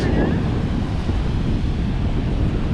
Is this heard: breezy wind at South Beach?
yes